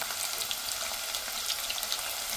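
Thinly sliced onion and slit green chillies frying in a pan, a steady, even sizzle throughout with no talking.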